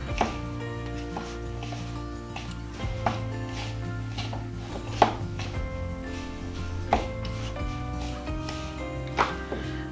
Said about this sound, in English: mixing this up till you get your crumbles formed